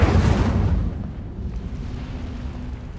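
A fiery Incendio spell bursts from a wand in the Hogwarts Legacy video game, starting with a loud, close boom that fades into a low, rumbling roar of flame for several seconds.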